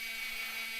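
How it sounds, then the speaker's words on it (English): A steady high whine of a 120 grit abrasive belt grinding a knife blade's edge, continuous and close, with no pauses or voices. "Here I'm using a 120 grit belt to put an edge on the blade."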